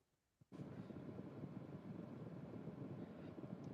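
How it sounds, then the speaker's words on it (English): A helicopter passes overhead at a mausoleum cemetery, a steady, broad rumbling drone that rises abruptly after a brief quiet and holds at a moderate, distant level. "there's a helicopter going"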